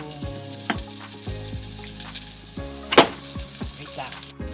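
Sautéing in a pan for sardine noodles with malunggay makes a close, steady sizzle with repeated stirring scrapes and one sharp clatter midway, over a steady tonal hum in the background.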